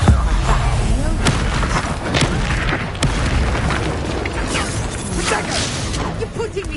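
Spell explosions from Bombarda in Hogwarts Legacy combat: repeated booms and bursts with whooshing magic over a dense, continuous battle din, loud throughout.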